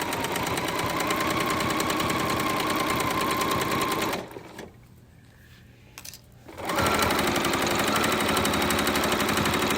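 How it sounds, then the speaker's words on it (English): Sewing machine stitching a minky quilt with a half-inch seam, running in a steady rapid whir that stops for a couple of seconds midway and then resumes at full speed. "So I am now going to start to stitching."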